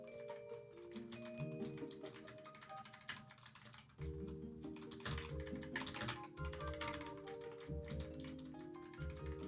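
Clicky computer keyboard typing, a steady run of fast keystrokes over a loud bed of game music and sound throughout.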